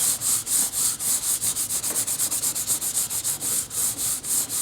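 Rapid back-and-forth scraping of hand sanding on worn leather, close and steady, with regular rhythmic strokes and no talking.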